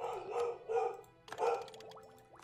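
A pet dog gives three barks in quick succession, fairly close and moderately loud, followed by a trailing high whine or squeak.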